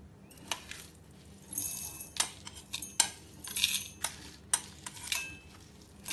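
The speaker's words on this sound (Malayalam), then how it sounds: "ഇനി അരച്ചെടുക്കാൻ വേണ്ടി മിക്സിയിൽ ഒരു ജാറിലേക്ക് ഇടാം." Dry roasted ingredients for a Kerala chundakka (turkey berry) curry are tipped into a mixer grinder jar, giving scattered light clinks, ticks and rattles against the jar, close and irregular, with no talk.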